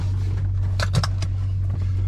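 A straight-piped Dodge Charger R/T idling nearby, a steady low droning rumble with faint clicks on top.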